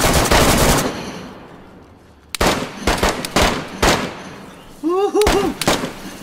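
Loud gunfire strikes around the player in the video game DayZ: a heavy opening burst, then a string of sharp, close cracks and bangs, with a short spoken exclamation among the later shots.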